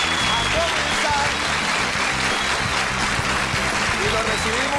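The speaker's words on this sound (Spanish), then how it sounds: "Y lo recibimos con ese fuerte aplauso." A television studio audience applauds to welcome a guest onto a comedy show, a continuous bed of clapping with music or voices running underneath, steady and fairly loud throughout.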